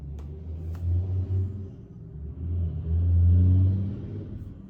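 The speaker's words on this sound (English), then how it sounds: "that is a very large truck" A very large truck rumbles along a residential street, its low engine drone swelling, easing and then building again to a loud, close pass before fading slightly.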